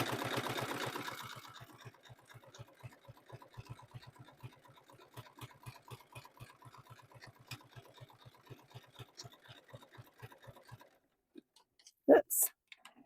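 A sewing machine stitches a rope-less fabric basket at a lengthened stitch, running in a fast even rhythm of close mechanical clicks that slows and stops, followed by a couple of louder handling knocks.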